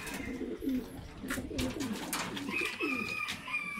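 Pigeons coo steadily in the hen section of a loft of stock birds in Atimonan, Quezon, with soft, repeated throaty calls overlapping close by for the whole stretch.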